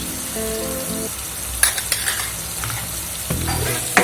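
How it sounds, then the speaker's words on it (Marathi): Turmeric, onion-garlic masala, red chili and coriander powder stirred into a sizzling pan for a baby corn dish, a loud hiss with clustered metallic scrapes and taps of the spoon. "छान मिक्स करून घ्यायचं आपल्याला"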